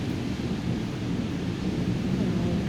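A thunderstorm with heavy rain gives a dense, constant roar of downpour with low rumbling underneath, steady and loud throughout with no pauses.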